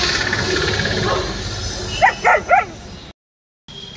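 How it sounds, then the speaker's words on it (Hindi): A dog in a veterinary hospital barks three times in quick succession at other dogs, sharp and close over a steady background hum, followed by a short gap of silence. "हमारा कुत्ता भी बहुत ज़्यादा भोंक रहा है उन्हें देख देख के"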